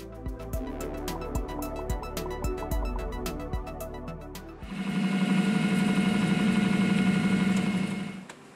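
An EMCO manual lathe turns a steel shaft: first a series of sharp rhythmic knocks over a low hum, then a steady louder whirring drone from the running machine that stops abruptly at the end.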